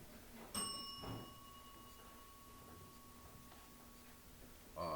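A single bell struck sharply once to start a live recording in a high school room, ringing a bright sustained tone that fades slowly over several seconds in a quiet room, with a brief clatter at the end.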